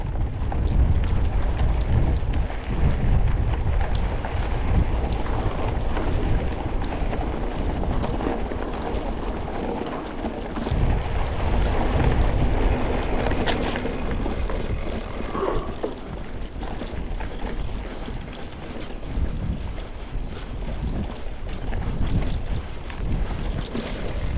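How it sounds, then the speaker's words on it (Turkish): Strong wind buffets the microphone in heavy, continuous gusts near a dam in a forest on a mountain bike ride, roaring and rumbling throughout with no voices. "Çok rüzgar var."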